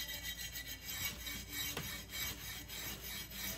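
Abrasive pad rubbed along the edges of a fused glass cheeseboard, giving a soft, rhythmic scraping with repeated strokes, quiet and close, with no talking.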